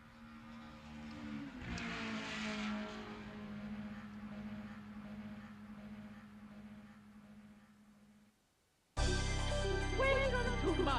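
Mario Kart video game racing sounds play as a continuous engine drone with a sustained tone, then a sudden louder burst of bright game music and effects near the end.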